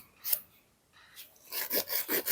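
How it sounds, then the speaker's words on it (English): A nail file shaping the length of thin gel nails, giving short, close, dry rasping strokes, a couple of isolated swipes followed by a quicker run of back-and-forth filing. "And filing my shape and length."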